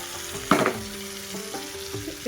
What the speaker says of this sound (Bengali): এবার আমি এখানে ধুয়ে রাখা চিকেনটাকে দিয়ে দেবো।